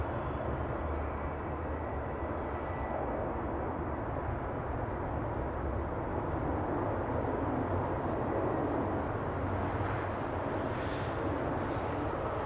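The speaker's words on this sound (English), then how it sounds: "Second Iceland Air Max 8 is coming in flight 500, arriving from Reykjavik in Iceland" Icelandair Boeing 737 MAX 8 airliner arriving at Amsterdam Schiphol on flight 500 from Reykjavik, its engines a steady broadband roar that holds loud and even throughout, with no talk.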